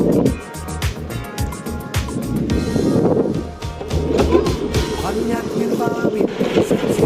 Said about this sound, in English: This motor is quiet and smooth.